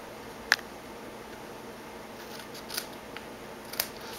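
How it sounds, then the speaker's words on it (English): Paper snips trim a spare piece of cardstock in a card-making setup, giving one sharp close snip followed by a few fainter clicks against a quiet background. "you can just get your paper snips and make a little trim here"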